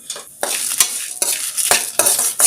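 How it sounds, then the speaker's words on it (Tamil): Urad dal and dried red chillies being roasted in a pan, with loud, close scraping strokes of a spoon repeating every half second or so over a light sizzle. "ரெண்டு ஸ்பூன் உளுந்து சேர்த்துக்கலாம் நல்லா வறுத்து விடலாம் நல்லா சிவந்து வரட்டும்"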